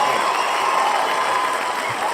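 Children cheering and shouting in the background, a continuous noisy crowd roar held at steady loudness throughout, with voices mixed in.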